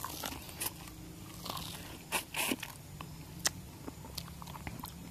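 Someone chews and bites into fibrous hala fruit (Pandanus tectorius) outdoors, producing soft, faint crunching and wet scraping bites in a few irregular bursts against a quiet background.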